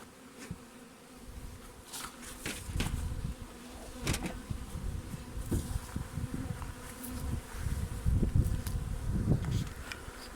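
Honey bees swarm into a hive during swarm season, a dense buzzing crowd of wings close by, rising and falling with individual bees zipping past loudly.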